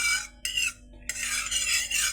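Oil being spread around an iron kadhai, a few short bursts of scraping and rubbing, close and alone, with brief pauses between strokes.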